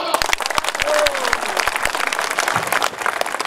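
An election rally crowd claps loudly and steadily, dense applause over a brief voice and a sharp rhythmic clicking pulse in the first two seconds.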